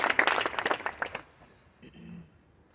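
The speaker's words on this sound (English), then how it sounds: "Y'all can clap if you want." A short burst of audience clapping at a facility naming ceremony honoring a man named Vince, fairly close and loud for about a second before fading into a quiet room with faint murmuring.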